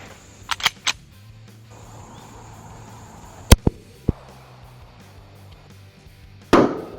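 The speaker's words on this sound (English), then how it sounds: "Alright, so here we go with the SIG P239 and a 180 grain bullet. So shoot these papers." Sharp gunshots from a SIG P239 .40 pistol firing 180 grain bullets at paper plates outdoors, several loud cracks spaced irregularly with a final louder blast near the end.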